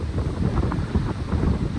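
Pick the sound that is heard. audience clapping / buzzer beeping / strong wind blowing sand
strong wind blowing sand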